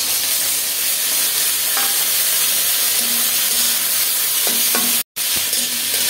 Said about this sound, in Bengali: পেঁয়াজ একটু ভাজা হয়েছে